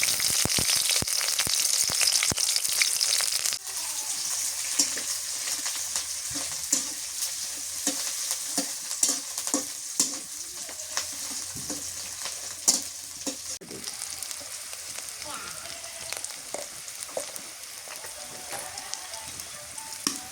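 Onion and green chillies frying in a pan, a loud hiss of oil that drops a little after a few seconds and carries on with crackles and scraping stirs for a long stretch, with no one talking.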